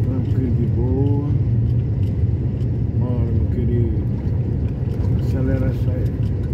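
Traffic on highway BR 316 in Pernambuco, Brazil, with the steady loud rumble of a moving vehicle's engine and road noise, and people talking over it throughout.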